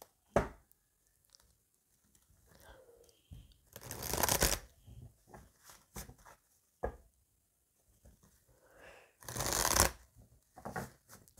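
Oracle cards shuffled for a reading: two loud riffle bursts, plus scattered softer card flicks, taps and handling sounds in between, close up in an otherwise quiet room.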